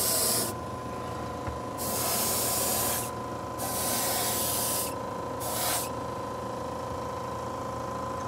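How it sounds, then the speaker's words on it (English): Cold glaze sprayed in a heavy coat over a chipped plate repair, three separate hissing bursts of spray against a steady low background hum. "Okay, so I'm going to put my final cold glaze on this. Good heavy coat."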